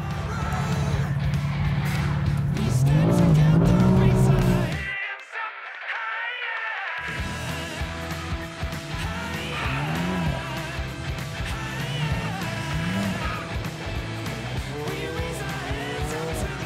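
A BMW M4 drifts with a revving engine and long squealing tires, loud and close, cutting out abruptly for about two seconds before the engine roar and screeching resume.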